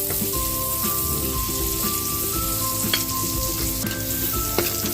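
Onion frying in a pan for pork batsoy, a loud, dense, continuous sizzle with scattered crackles and faint stirring, no voices.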